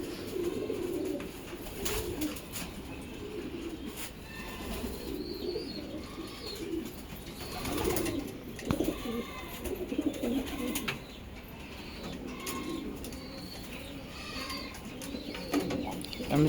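Pigeons coo steadily in a loft just before release, a dense low murmur of overlapping calls running throughout, with brief wing flutters and voices nearby at times.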